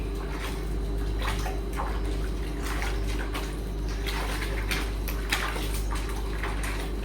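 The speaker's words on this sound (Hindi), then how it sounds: "सबको पता लग जाना चाहिए टॉवल वॉश हो रहे हैं" Towels are washed by hand in a tub of water, with continuous sloshing and splashing plus occasional drips and scrubbing noises over a steady low hum, close and fairly loud without any talking.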